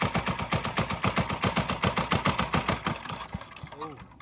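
A diesel minibike engine idles at close range with a steady, fast chugging beat of sharp, even pulses that slows and fades near the end.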